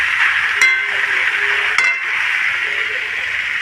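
Spinach goes into a hot pan for a Bengali palong shak curry, giving a steady, close sizzle broken by two sharp metallic clinks of a utensil against the pan.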